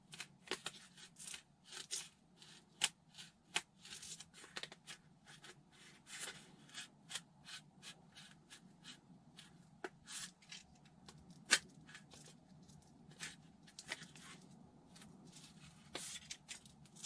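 A blade cuts straight back through material during a gull wing build, giving a quiet series of crisp, irregular snips and clicks with no talking.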